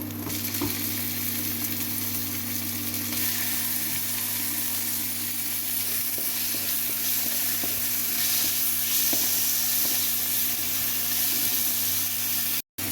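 Ginger garlic paste with tomato frying in a pan, a steady loud sizzle with faint stirring scrapes running continuously, close up, with a steady low hum underneath and no voices.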